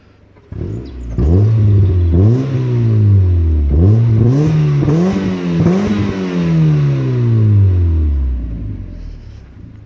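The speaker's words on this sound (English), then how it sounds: "When I give it some gas," A Mazda 323F car engine revs up sharply several times in quick succession, close and loud, then winds back down to a low idle rumble.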